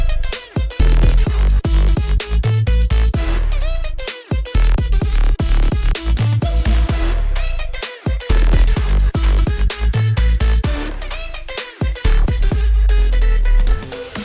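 An electronic trap break from an Arabic future house track pounds along with heavy bass hits and punchy drums under a bright, repeating lead synth. The mix is loud, steady and purely instrumental, with brief drop-outs between phrases.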